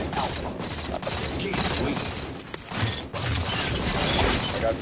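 Rapid gunshots during a Halo capture-the-flag match on the Simplex map, loud repeated bursts with mechanical clatter, heard alongside players talking.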